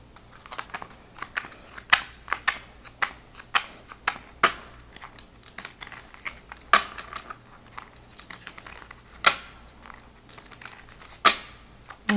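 Tarot cards are shuffled by hand in a quick, uneven run of crisp riffles and soft slaps, close and fairly loud, with no talking.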